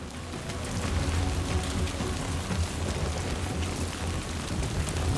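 Steady broadband rain hiss of Timefall in the video game Death Stranding 2, a continuous wash of falling rain with a low rumble underneath, fairly loud and unbroken throughout, with no voices.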